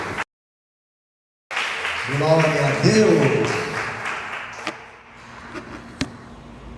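A church congregation claps together in steady applause after a brief silence, the sound filling the room while a voice speaks over it and a few sharp claps stand out near the end.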